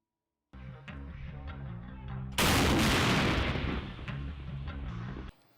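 Artillery fire during assaults near Bakhmut, Ukraine, a sudden loud blast bursting over a tonal background, followed by a rumbling decay and a few sharp distant reports.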